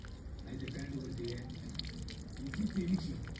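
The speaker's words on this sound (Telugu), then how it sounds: "ఈ సైడ్ లో మనం వాటర్ పోయాలి. చూడండి వాటర్ అనేవి కిందికి వెళ్ళాలన్నమాట." Water poured into the drain hole around a motorbike fuel tank cap trickles and drips down, soft close gurgling drops over a faint background, with a voice talking at times.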